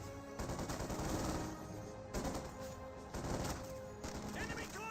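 A German MG42 machine gun firing in Company of Heroes 2. Several quiet, rattling bursts come in quick succession over faint battle noise, with a voice speaking over them.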